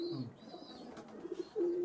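A pair of Royal Teddy pigeons coo softly and briefly at close range, low throaty calls with a short pause between them.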